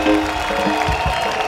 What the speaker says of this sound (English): Continue clapping for Jesus tonight.